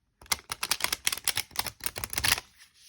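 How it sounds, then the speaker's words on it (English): Oracle cards from a stiff but flexible deck riffle-shuffled, a quick run of dense crisp flicking clicks lasting about two seconds, close and clear, ending in quiet. "See, it just has just enough give to where you can do a decent rifle shuffle."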